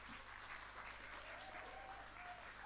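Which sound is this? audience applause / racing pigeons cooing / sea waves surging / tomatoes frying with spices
audience applause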